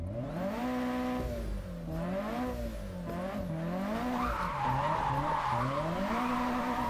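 Modified car engine in the Japanese Drift Master video game, revving up and down in long sweeping pulls with a steady loud drone, joined partway through by sustained tire skidding and squeal from drifting.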